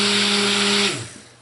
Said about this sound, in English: I'm going to use the stick blender to go ahead and start cleaning it